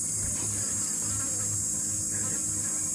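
Bees buzzing steadily around a cooking area in a rural Filipino setting, a continuous insect hum that stays fairly close and unbroken with a high persistent whine over low background rumble.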